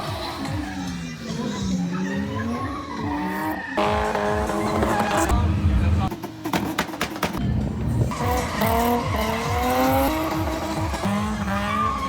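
Rally cars drift past a spectator point at the Donegal International Rally, engines revving hard and tyres squealing in repeated loud bursts, with a crowd audible in the background.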